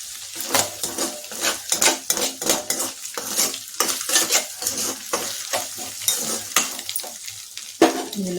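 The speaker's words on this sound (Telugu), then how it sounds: "ఇప్పుడు ఈ ఫ్రై అయిన దాంట్లో మొత్తం మిక్స్ చేసేసుకోండి" Fried noodle mixture for a quick kids' snack is stirred in a hot pan, a metal utensil scraping and clinking in a steady rhythm over a continuous sizzle, close and fairly loud, with no talking.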